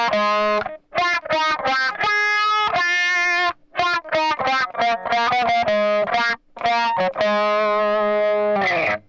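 A distorted electric guitar plays the solo from a song, loud and close, with quick picked notes, short repeated phrases and a few held, bent notes, with no voice over it.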